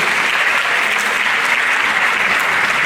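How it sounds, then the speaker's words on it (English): Dense round of applause from a large audience at a university entrepreneurship orientation programme, continuous loud clapping wash held steady throughout. "Can you give a round of applause to the manager?"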